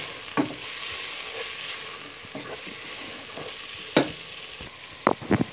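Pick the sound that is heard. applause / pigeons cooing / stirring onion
stirring onion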